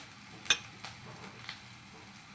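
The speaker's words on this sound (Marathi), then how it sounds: "तेल आपलं एकदम मस्त गरम झालेलं आहे हे बघा हे लसूणही घालून घेतलेली आहे मी कढीपत्ताही घालून घेतला आहे" Garlic, curry leaves and green chillies sizzling in hot oil in a kadhai for besan jhunka, a soft crackle with one sharp clink of a spoon early and a few faint stirring taps after.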